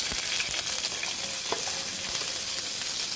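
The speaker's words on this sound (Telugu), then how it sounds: "కొద్దిగా ఆయిల్ వేడెక్కింది అనగానే ఈ మిరపకాయలను తీసి ఆయిల్లో వేసేసి మూత పెట్టాలి." Green chillies crackle and sizzle in hot oil in a pan for green chilli chutney, a steady broadband hiss with scattered pops throughout, close and fairly quiet, with no talking.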